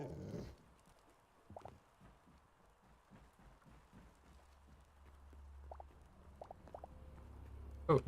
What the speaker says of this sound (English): Why are there so many dogs?